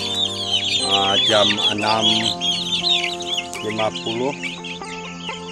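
A flock of free-range village chickens clucks and chatters close by at morning feeding, overlapping calls and a few higher chirps over a steady farmyard hum, with a voice speaking briefly.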